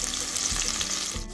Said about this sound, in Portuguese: agora eu tô grelhando aqui, né, fritando o pimentão amarelo